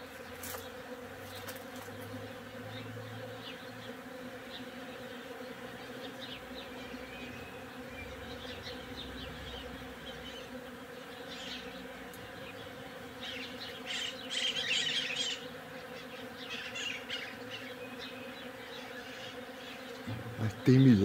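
Many European honeybees hum in a continuous, layered drone up close, with occasional louder passes and faint bird chirps in the background.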